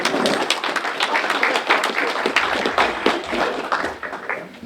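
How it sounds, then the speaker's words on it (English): An audience at an evening presentation claps for the speaker, a steady burst of applause that gradually thins and fades toward the end. "The applause were for you"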